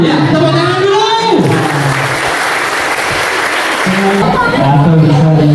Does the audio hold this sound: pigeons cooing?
no